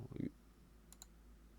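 A computer mouse clicks during 3D modelling work, two quick faint clicks close together following a brief soft noise.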